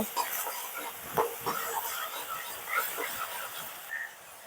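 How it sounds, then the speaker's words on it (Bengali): A spice mix of turmeric, chilli powder and salt frying in a pan, a dense hissing sizzle that runs throughout, with faint knocks of a spoon stirring. "মশলাটাকে ভালো করে কষিয়ে নেব।"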